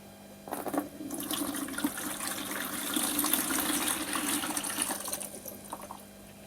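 Water gushes and trickles steadily while cherry shrimp are moved into an aquarium tank, a soft continuous pouring after a brief splash at the start, fairly quiet and close, with no talk.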